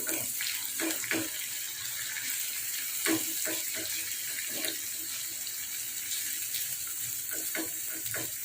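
Shredded Balinese chicken fries in oil in a pan until the oil releases. A dense, continuous sizzle and crackle runs steadily throughout with occasional soft stirring knocks, and no talk.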